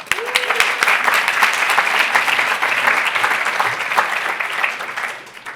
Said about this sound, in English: Big round of applause for Adam.